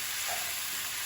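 Beef and vegetables frying in a pan for a one-pan stir fry, a steady bright sizzle and hiss filling the clip at moderate level, no talking.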